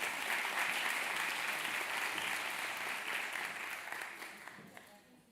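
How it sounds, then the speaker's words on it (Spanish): A conference audience gives warm, sustained applause that fades out over the last second. "Un aplauso para ella y para los ponentes también."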